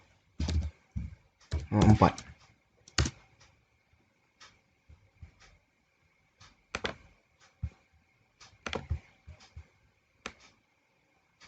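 Scattered clicks of typing on a computer keyboard while correcting a typo, irregular quick keystrokes and short bursts under and between a person's speech.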